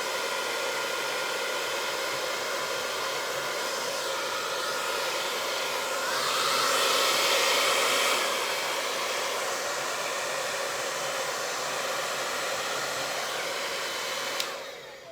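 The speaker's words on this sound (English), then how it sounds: "So I'm drying it with the hairdryer and it seems to be working." A hairdryer blows steadily while drying a sign, a continuous close airy roar with a whining tone that swells briefly midway, then cuts off near the end.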